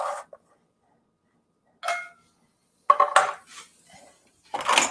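A chef's knife chops in a few sharp, separate bursts against a cutting board while tortilla soup is being prepared, with short pauses between strokes and a faster cluster of cuts near the end.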